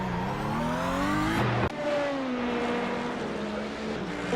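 A Porsche race car at Watkins Glen, engine droning loud and steady with rising pitch, then a sharp crunch-like break as it hits a fast corner, followed by a lower steady engine tone.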